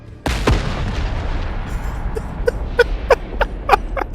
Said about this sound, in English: let's try our lovely big grenade right in the center.